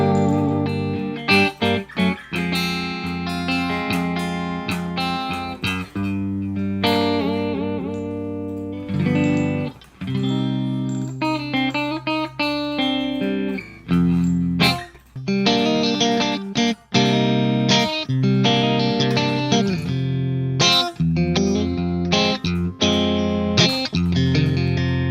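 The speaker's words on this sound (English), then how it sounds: "I will start adding just the compressor" Electric guitar played through a compressor effect in AmpliTube 5, with chords and single notes ringing out in phrases, loud and even, with some distortion and short pauses between runs.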